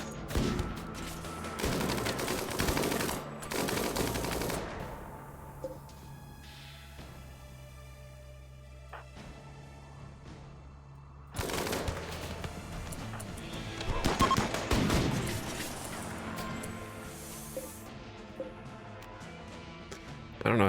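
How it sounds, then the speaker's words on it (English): Heavy SMG gunfire from the colony sim RimWorld, with bursts of rapid shots crowding the start and returning around the middle and end, separated by a quieter stretch of faint tones. "the people that they are shooting with the heavy SMG are shielded"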